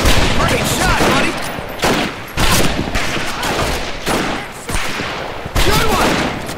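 Gunfire from the video game Medal of Honor: Pacific Assault: dense, loud bursts of rifle and machine-gun fire in repeated volleys across a jungle island battle, continuous and close throughout.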